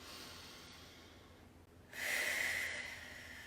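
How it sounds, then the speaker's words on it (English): A deep cleansing breath taken during a calm anti-anxiety meditation, a soft steady airflow that swells into a louder, breathy rush partway through, close to the listener with no talking. "Just take a couple cleansing deep breaths"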